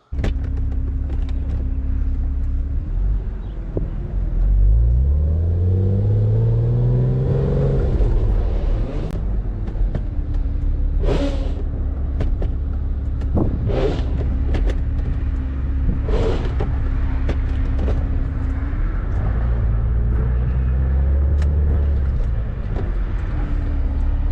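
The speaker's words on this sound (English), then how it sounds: "So now it's time to go for a test drive and see how it feels." A Porsche Boxster S 986 with a newly adjusted shift cable and rebuilt shifter, out on a test drive: a steady close engine drone and road rumble throughout, with rising and falling engine notes as it accelerates and changes gear.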